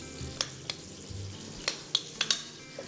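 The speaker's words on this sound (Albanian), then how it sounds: "Lug më pas do t'i skuqim në tiganin me vaj për skuqje." Meatballs fry in oil in a pan, a continuous close sizzle broken by several sharp spatula scrapes and clinks against the metal.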